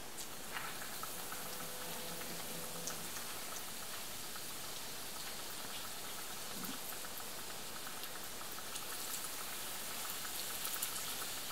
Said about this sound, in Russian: Запузырилась. Пузырики пошли.